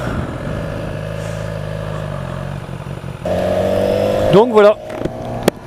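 A new motorcycle engine fitted with a Shifter Pro idles with a steady low rumble, then revs up sharply with rising, falling blips before settling, close and loud, with a brief spoken phrase.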